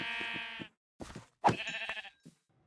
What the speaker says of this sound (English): I spot some more sheep on the edge of a nearby ravine